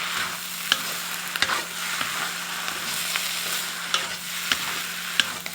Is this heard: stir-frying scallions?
yes